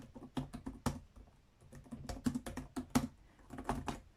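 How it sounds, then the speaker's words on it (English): Fingers type on a Lenovo Ideapad 3 laptop keyboard, giving quick, irregular bursts of crisp, clicky keystrokes with brief pauses between runs, close up. "The keyboard is clickier than the MacBook one."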